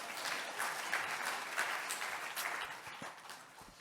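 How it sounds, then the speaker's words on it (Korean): A church congregation applauding after the pastor is introduced, steady soft clapping that fills the room at moderate distance and fades toward the end. "자, 한번 박수해 주시죠."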